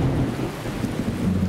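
Thunder rolls through a rainstorm in Skyrim Special Edition, a steady, loud, low rumble with rain hiss and wind noise filling the whole moment, no voices.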